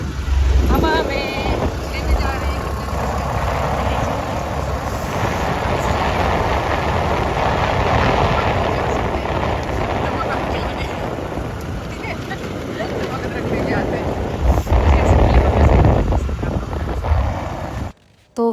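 Wind rushes and rumbles steadily against the microphone during a motorbike ride on a cool, rain-freshened day, with traffic noise underneath and someone talking over it almost the whole time.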